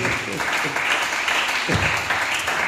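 A church congregation claps and cheers in a dense, continuous burst of applause with voices mixed in, close and sustained throughout.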